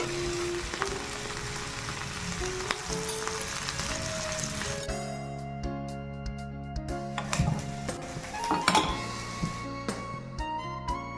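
Nigella seeds and green chilli sizzling in mustard oil in a wok, a steady frying hiss throughout with occasional sharp crackles and pops, close and fairly quiet.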